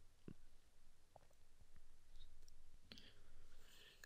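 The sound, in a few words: computer mouse clicking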